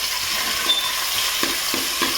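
Half an onion, a tomato and a green chilli fry in oil, giving a steady hissing sizzle with a few soft stirring taps, for a Kundapura-style fish curry.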